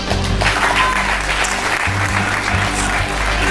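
A crowd claps steadily and loudly for a few seconds, a dense, continuous patter of applause.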